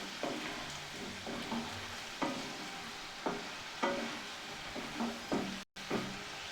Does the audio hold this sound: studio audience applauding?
no